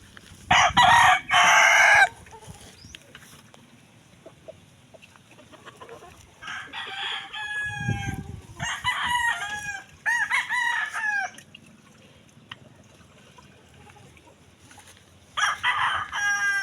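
Chickens and roosters at feeding time: several loud crows ring out in bursts near and far, with soft clucking and rustling between them.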